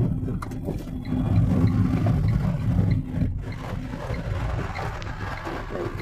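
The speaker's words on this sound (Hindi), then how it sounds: "अब देखिए साइड से ना बस आ रही है बहुत तेज़" A bus rushes fast past a car on a busy road, heard from inside the car as a loud, rumbling engine and wind roar that swells and then eases off.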